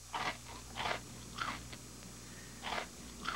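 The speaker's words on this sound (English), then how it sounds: "They're crunchy little corn balls" Kix corn ball cereal crunched while eating, about five distinct close bites spaced roughly half a second apart, quiet between chews, with no voices.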